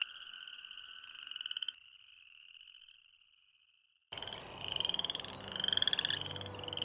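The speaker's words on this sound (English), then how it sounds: "They're the most naturally far-ranging North American frog" North American frogs in a Rocky Mountain wetland, sustained high trilling calls that hold steady, fade to silence, then return amid a denser chorus of overlapping trills and chirps, with no talking.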